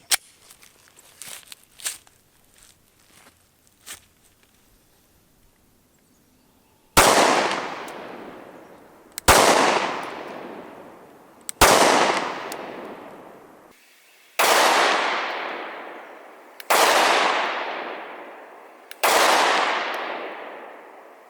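A subcompact Glock 43 pistol fires HST rounds, six sharp, loud reports spaced a couple of seconds apart, each ringing off briefly, after a stretch of quieter handling clicks and shuffling.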